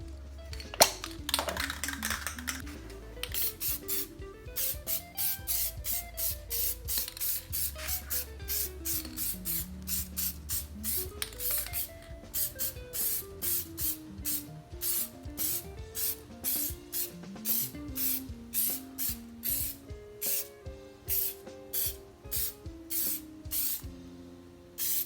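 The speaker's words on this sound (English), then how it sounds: "we're going to do our spray around. The first coat will be a light dust coat." Rapid bursts of Plasti Dip spray hiss from an aerosol can onto car rims in a light dust coat, short close puffs repeating steadily in a quick rhythm, with a faint rising and falling whine beneath.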